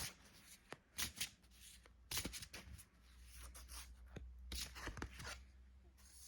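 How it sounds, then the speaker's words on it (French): Tarot cards being shuffled and drawn close by: soft riffles, slides and a few sharp snaps of card on card, scattered irregularly and fairly quiet. "je vais tirer quelques cartes."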